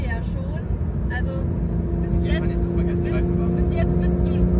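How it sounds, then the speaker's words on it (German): Porsche GT3 RS cruising on the Autobahn, heard from inside as a steady low engine drone and road noise, with people talking over it throughout. "Wir fahren jetzt mal hier kurz ein bisschen Autobahn, damit der auch warm wird"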